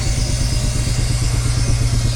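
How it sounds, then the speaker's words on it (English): A John Fowler compound steam engine runs at a tractor festival, giving a steady, loud low rhythmic chuffing throb with some mechanical clatter, continuous throughout without talk. "there's the John Fowler. Looks like a compound engine."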